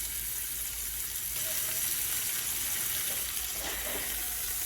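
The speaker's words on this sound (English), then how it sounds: "As your burger begins to cook" A burger patty sizzling in a pan, a steady crackling hiss of frying fat filling the whole span with small pops, close and fairly loud, no voices.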